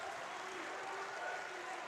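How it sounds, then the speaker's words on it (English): Sparse spectators applaud in a partly filled judo stadium at a world championship, a soft, distant, steady patter of clapping with light crowd murmur. "everybody is applauding for Ungvari"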